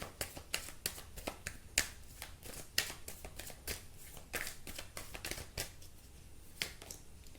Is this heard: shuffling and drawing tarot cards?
yes